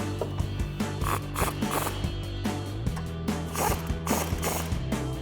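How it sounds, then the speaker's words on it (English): Caliper bolts on a 2009-2020 Dodge Challenger GT brake job being tightened with a 15mm socket and an 18mm wrench: a steady run of close ratchet clicks over a low background hum. "take your 15mm socket and 18mm wrench and tighten these down"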